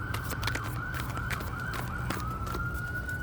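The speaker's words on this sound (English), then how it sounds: "Got sirens going on." Emergency sirens wail steadily outdoors in the distance, a rising and falling tone held for several seconds over low traffic rumble, with sharp broadband knocks breaking through now and then.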